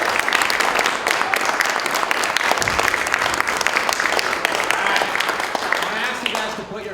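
A seated chamber audience breaks into loud, sustained applause welcoming a speaker, dense clapping throughout with a voice talking over it near the end.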